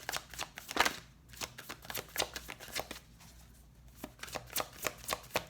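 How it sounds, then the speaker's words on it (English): Tarot cards being shuffled and drawn, a close series of quick, crisp riffling slaps in an uneven rhythm with brief pauses, no talking. "Let's get a bit more cards here. Give us 3 more cards."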